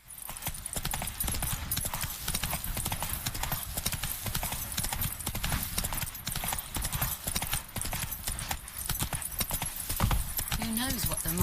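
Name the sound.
horse galloping in video game The Witcher 3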